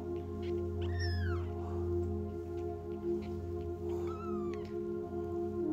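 Kittens meow indoors, two distinct high rising-and-falling cries a few seconds apart, close and clear over a steady low household hum.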